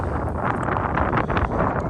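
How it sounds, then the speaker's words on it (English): Steady gusting wind at the beach roars and buffets against the microphone, a constant low rumble with no voices. "It is windy out here by the beach area."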